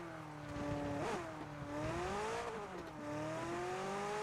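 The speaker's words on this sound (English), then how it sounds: "Maybe they'll be able to hear the car rotate away." A car in a PUBG match drives away, its engine whining and rising and falling in pitch as it revs and shifts, moderately quiet and alone without talk.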